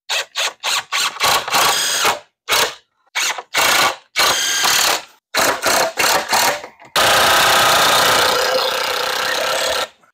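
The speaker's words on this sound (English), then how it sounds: "I'm going to go ahead and get my handy dandy impact gun." An impact gun drives screws into 2x4s while framing a basement, firing in a string of short loud hammering bursts with brief pauses, then one long continuous run at the end.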